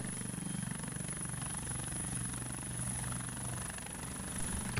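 A helicopter in the FlightGear flight simulator gives a steady, loud rotor drone with a low thudding chop throughout, alongside a constant high-pitched whine.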